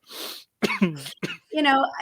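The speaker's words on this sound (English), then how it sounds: "You're having a coughing fit." Harsh, rough coughs come in a quick cluster, with throat-clearing hacks between them, close to the microphone.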